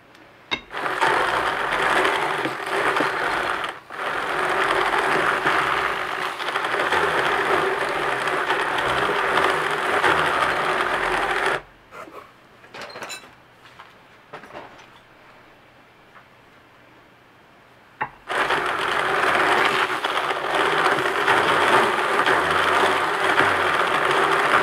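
Drum carder working wool fleece fibre, its loud mechanical whirring and ticking running steadily, cutting out for several seconds of near-quiet in the middle, then resuming.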